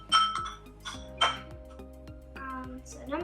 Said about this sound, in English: so now we're gonna mix with the spoon